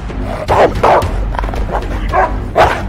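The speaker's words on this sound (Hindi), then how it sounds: "बगीचे की रखवाली करते थे खूंखार विदेशी कुत्ते" Fierce foreign guard dogs barking, a series of loud, close barks in an irregular rhythm, about five or six sharp bursts over a low rumbling background.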